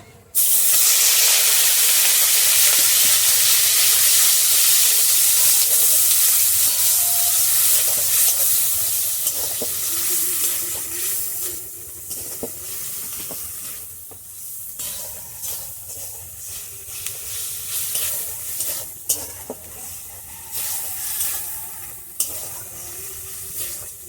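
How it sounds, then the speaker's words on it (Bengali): Onion, green chili and ginger paste hit hot oil with a loud, bright hiss that slowly eases into a softer sizzle broken by stirring scrapes and clatter. "পেঁয়াজ, কাঁচা লঙ্কা আর আদা বাটাটা দিয়ে দিচ্ছি তেলের মধ্যে।"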